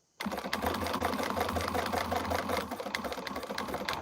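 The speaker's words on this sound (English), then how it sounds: "I'm just top stitching the flap" A sewing machine top stitching a bag flap runs in one steady continuous burst, close and even, with its rapid mechanical stitching rhythm holding for nearly the whole stretch after a brief quiet start.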